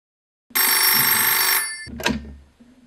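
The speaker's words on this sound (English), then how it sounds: "Receiving a phone call." A telephone bell rings in one loud, close, sustained burst, breaks off, then gives a shorter second ring.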